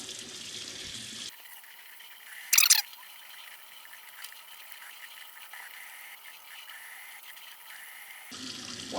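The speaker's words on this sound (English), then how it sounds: "Let's check out what happens if we rinse it a little bit." Cold tap water runs steadily while dyed ski clothing is rinsed, a soft continuous splash with one brief louder rush of water near the start.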